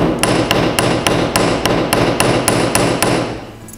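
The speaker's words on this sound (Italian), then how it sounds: "quindi utilizzo il martello sempre un po' con un orientamento direi a 45 gradi" A hammer strikes a metal bracelet about a dozen times in an even, rapid rhythm, each blow a sharp, close ringing tap on metal, with no talking.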